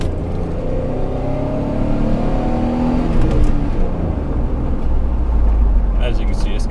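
A 2007 Jeep Wrangler Unlimited engine drones steadily from inside the cab while driving, with a low rumble and a rising whine as it accelerates, loud and continuous throughout.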